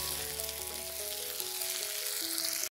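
Chopped tomatoes sauté in a pan for a Kerala-style clam roast, giving a steady, close, continuous sizzle with soft stirring, while a faint tonal hum runs underneath until it cuts off abruptly.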